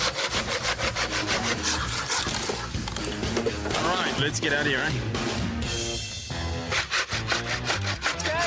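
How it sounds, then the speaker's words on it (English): Hand saw cutting through a wooden box, rapid rhythmic rasping strokes close up and loud, pausing briefly before resuming, with a person talking over the sawing. "Sawing through that box was a mission."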